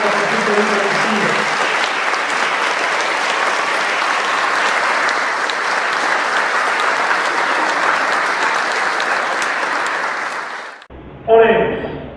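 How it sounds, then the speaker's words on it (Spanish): A church congregation breaks into long, loud, sustained applause during Mass, the clapping fading out after about ten seconds before a voice speaks. "Fuerte el aplauso a Jesús sacramentado, a Jesús Eucaristía."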